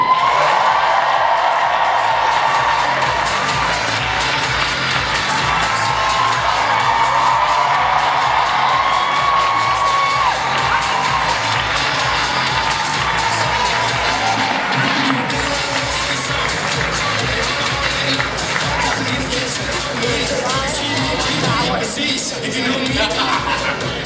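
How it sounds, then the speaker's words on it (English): A convention crowd at New York Comic Con 2017 cheering, whooping and applauding the American Gods cast, a loud, continuous roar that carries on for the whole stretch. "hold your applause until I say all the names"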